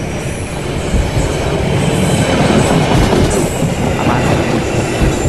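A distant train rumbles past in a horror video game set by an eerie river, a continuous heavy rolling roar with faint wheel squeal and clatter, steady and loud, with no voices over it.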